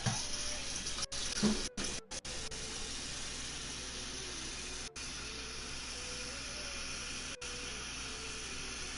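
Water from a tap runs steadily into a container in Genshin Impact, a continuous close hiss with a few brief dropouts, no voices over it.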